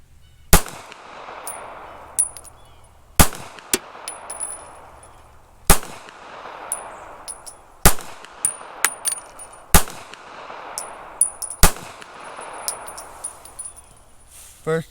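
A Taurus Spectrum .380 ACP pistol fires Browning 380 Auto rounds outdoors: six sharp, loud shots spaced about two seconds apart, each followed by a ringing tail and metallic clinks of brass, with a voice briefly audible.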